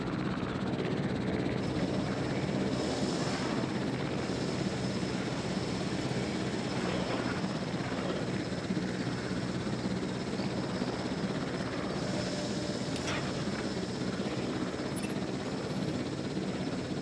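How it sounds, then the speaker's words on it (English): A helicopter flying in a video game, a continuous loud rotor drone and engine rumble holding steady throughout, with no voices over it. "Oh, this helicopter just spawned."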